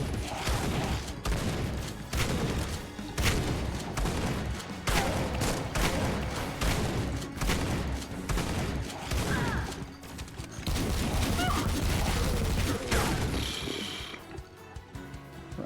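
Gunfire in the retro first-person shooter Supplice, with dense, loud bursts of shots and heavy blasts rattling almost nonstop for about fifteen seconds, easing only briefly near the end.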